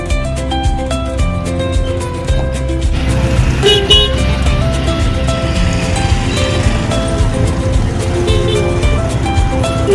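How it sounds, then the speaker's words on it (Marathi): A traffic jam on a road leading to a Ganpati temple at Titwala, with car horns honking repeatedly over a continuous engine and road rumble. The horn blasts are loud and close, some held and some short, and nobody talks. "गर्दीच असेल, जाम ट्रॅफिक आहे ना."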